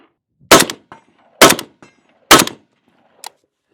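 Three sharp, loud AMD-65 rifle shots at a steady range pace, each with a short ringing tail, fired at a steel target, followed by a fainter clank near the end, with no talking.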